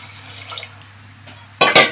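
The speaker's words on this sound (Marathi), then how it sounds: "तर आपण याच्यामध्ये पाणी घालूया" A quiet stretch with low hum, then a brief, loud splash of water being poured into a pot of chickpeas right at the end.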